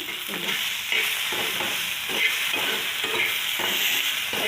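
Food being fried and stirred in a pan gives a continuous close sizzle with rhythmic scraping strokes about once a second, and no one speaks.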